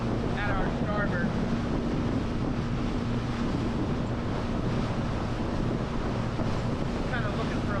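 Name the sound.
wind blowing over a boat at sea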